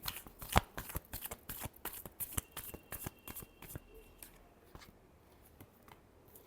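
Tarot cards being shuffled by hand, a rapid run of crisp riffling flicks and taps close by, busy at first and thinning out toward the end, with no voice over it.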